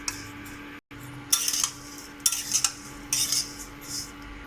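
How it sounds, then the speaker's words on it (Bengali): Vermicelli is stirred and fried until reddish in a pan, heard as several bursts of metal spoon scraping and clinking against the pan over a faint steady hum, with a brief silence near the start. "ভালো করে নেড়ে ছেড়ে লাল লাল করে ভেজে ভেজে নিতে হবে।"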